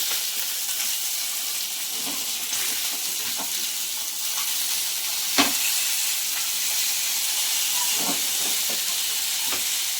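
Fish pieces fry on a hot flat pan for a Sunday fish stew, giving a continuous sizzling hiss at moderate level, broken by several sharp clicks and pops, with no voice over it.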